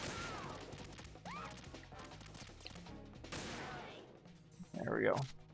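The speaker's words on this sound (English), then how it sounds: "So you're gonna take pot shots at her." Gunfire in the video game Metal Gear Solid 2: Sons of Liberty comes as scattered crashing shots and bursts, mixed with game sounds, and a voice talks over the action.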